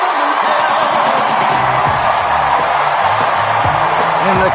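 Large arena crowd at the Democratic National Convention roaring and cheering, a loud continuous swell of whoops and yells with no break, muffled voices shouting within it.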